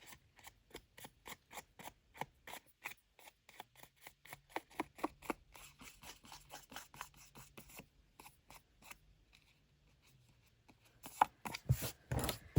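Scissors cutting paper for a Halloween junk journal, a long run of crisp, evenly paced snips up close, pausing briefly before a few more sharp cuts.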